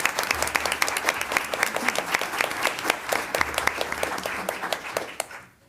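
Audience at a school board meeting breaks into applause, a dense, even patter of many hands clapping that holds steady, then thins out and fades away at the end.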